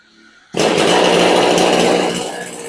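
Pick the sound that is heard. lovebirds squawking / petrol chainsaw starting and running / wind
petrol chainsaw starting and running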